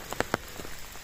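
Rain falls in a steady hiss with a few sharper drops pattering nearby on a surface, brief and moderately quiet.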